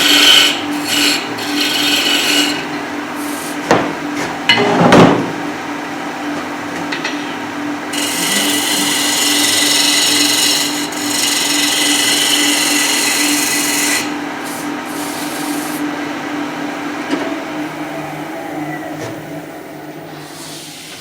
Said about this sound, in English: Back to the spindle gouge, just to get them there.